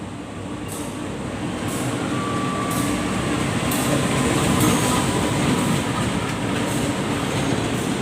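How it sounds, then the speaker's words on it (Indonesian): The Logawa passenger train from Ketapang to Purwokerto, Indonesia, rumbles steadily past, loud and close, with rhythmic clicks of wheels over rail joints throughout. "ternyata kereta api Logawa dari stasiun Ketapang tujuan akhir stasiun Purwokerto"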